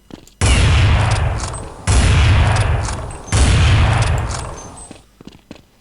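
AWP sniper rifle shots in the video game Counter-Strike 1.6: three loud, booming blasts fired a little over a second apart, each trailing off before the next, with no talking.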